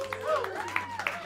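Brief scattered clapping from a jazz club audience for the bassist, light and fairly close, with someone talking over the applause.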